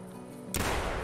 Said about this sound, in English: we're gonna pull out the 10 gauge this time, and then now, boom